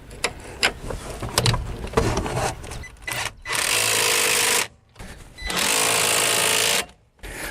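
An impact wrench tightens brake caliper bolts on a second-generation Toyota Prius during a front brake job, firing two loud, close bursts of rapid hammering, each lasting one to two seconds, after some clinking of tools.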